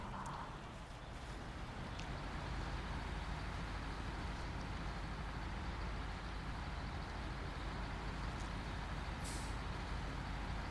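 A heavy truck crawls along rough, soft off-road ground in Snowrunner, its engine a steady low rumble throughout with a brief air-brake-like hiss near the start and a short high burst late on.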